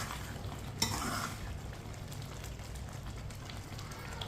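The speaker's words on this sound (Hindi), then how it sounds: "धनिया और मसाला डाल के मैंने मिक्स कर लिया।" Mash dal frying in a pan while masala and coriander are stirred in, a soft continuous sizzle with a brief scrape of the spoon near the start, close and fairly quiet.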